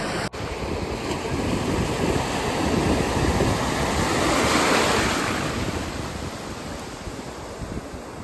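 Sea waves wash onto Velneshwar beach in Konkan in a broad, steady roar of surf, swelling louder midway and then easing, with wind buffeting the microphone throughout.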